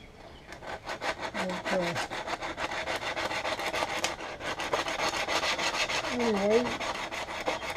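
Metal being worked over by hand to smooth out grinder marks, a steady rasping, scraping stroke repeated continuously at close range, with a few brief spoken words.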